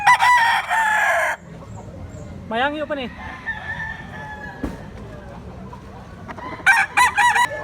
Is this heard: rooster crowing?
yes